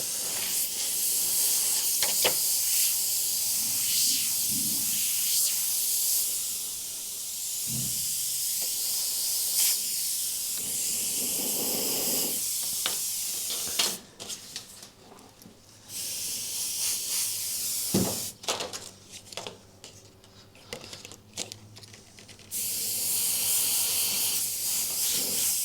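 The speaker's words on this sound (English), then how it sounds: "So the airbrush that I'm using at the moment is the Iwata CMC Plus Micron." An Iwata CMC Plus Micron airbrush sprays red candy paint in steady sustained hissing bursts, broken by short pauses and varying airflow, with no talking.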